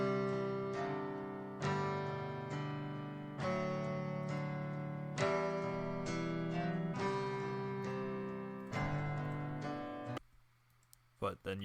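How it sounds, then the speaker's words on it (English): A plucked guitar melody for a beat, slowed to half speed with a Halftime plugin, plays as a sequence of ringing, sustained notes in a slow rhythm, then stops and leaves a few faint clicks. "All I'm doing is half speeding the melody."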